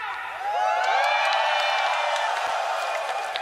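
An esports arena crowd at a Dota 2 tournament in Singapore cheers and whoops in a sustained, loud swell after a brief quieter start, with scattered clapping.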